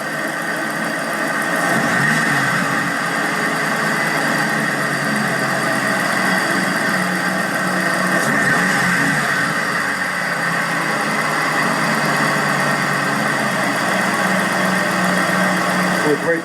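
A 12k-mile 2004 Terminator Cobra in Competition Orange, not yet warmed up, gets a light rev and then settles back into a steady, loud idle with a continuous engine drone close to the microphone.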